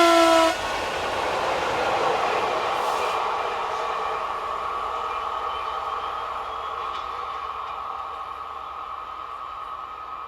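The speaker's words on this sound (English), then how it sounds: "Here 66210 heads south with a featherweight automotive working." Locomotive 66210 hauls a light automotive freight train south along the Mâcon to Chalon-sur-Saône main line in France, opening with a brief horn blast followed by a steady rolling rumble and rail hum that slowly eases off.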